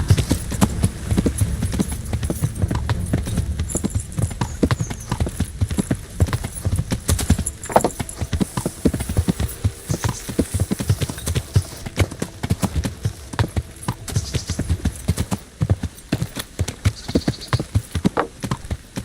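Horse hooves clip-clop in a steady, rapid gait while riding in Kingdom Come: Deliverance, loud and continuous for the whole stretch with brief rustling and game noise mixed in.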